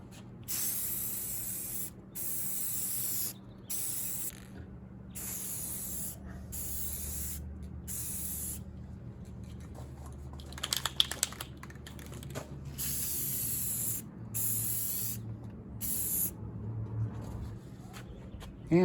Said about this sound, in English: we'll spray the stretcher.